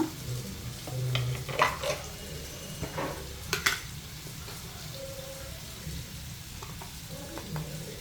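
Spices with salt and turmeric frying gently in a pan on low flame, a soft steady sizzle with occasional spoon scrapes and clinks, close but quiet.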